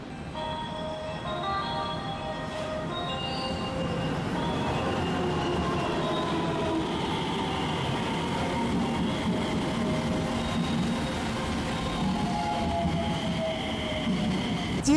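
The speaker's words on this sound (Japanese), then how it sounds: "次、普通列車の徳山駅、山口県の中部、周南市までひとっ飛びや。" Local train ride from Hiroshima toward Tokuyama Station in Yamaguchi Prefecture, Japan, heard as a steady interior rumble of a moving carriage with faint high wheel squeal and rattling, continuous and without talk.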